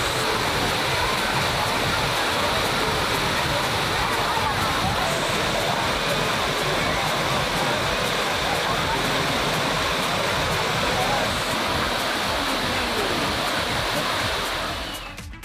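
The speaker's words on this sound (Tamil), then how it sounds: "கனமழை காரணமாக திற்பரப்பு அருவியில் நீர்வரத்து அதிகரித்து அருவியில் தண்ணீர் ஆர்ப்பரித்து கொட்டுகிறது" Thirparappu waterfall roars after heavy rain, a dense, steady rush of falling water that stays loud and unbroken throughout, tapering only at the very end.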